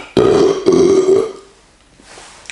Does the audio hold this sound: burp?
yes